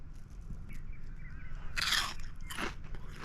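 Crunchy fish tacos in wraps with red cabbage bitten into twice, each a loud, close, crisp crunch over faint background noise.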